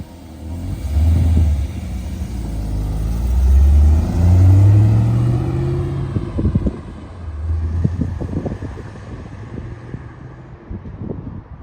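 A 5-litre Holden VT Clubsport V8 with an exhaust leak revs up in a few loud, deep surges, then settles into a lumpy idle with sharp ticking exhaust pops, close by with wind buffeting the microphone.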